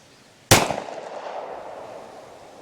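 A single loud, close gunshot from a Glock 17 firing 9mm ammunition, a sharp crack followed by a long decaying echo in open surroundings, with no voices.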